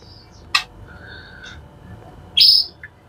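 A white-rumped shama (murai batu) gives a few sharp, bright calls: a short burst early on, a soft whistle in between, and a louder, higher call near the end, with quiet gaps and no talking.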